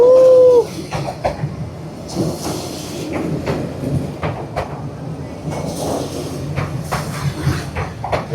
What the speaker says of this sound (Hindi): यहाँ से ट्रेन जा रही है